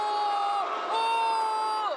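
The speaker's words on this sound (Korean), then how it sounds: "전광판에 홍명보 감독이 소개되자 일제히 야유하는 관중들." Football fans in a stadium boo in unison as Korea head coach Hong Myung-bo is introduced on the big screen, a loud, sustained mass jeer with a steady droning tone that rises and swells throughout.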